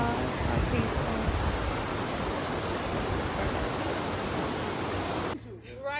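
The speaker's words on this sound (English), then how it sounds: "This is the waterfall." A waterfall near a mountain cabin in Gatlinburg, Tennessee roars as steady, broadband rushing water that fills the whole stretch at high level, then drops away abruptly near the end.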